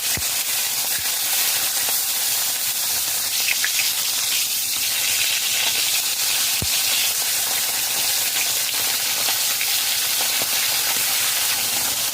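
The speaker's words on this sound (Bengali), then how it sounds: "কড়াইতে সর্ষের তেল গরম হয়ে গেছে মাছ দিয়ে দেবো" Pieces of bhola fish fry in hot mustard oil in a pan, filling the space with a loud, continuous, even hiss and sizzle with only a few faint clicks.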